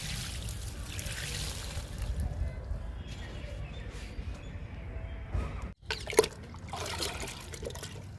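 Liquid fertilizer pours and trickles onto flowering plants in a summer garden, a soft continuous splashing and dribbling at close range, with a brief louder splash later on and faint background activity throughout.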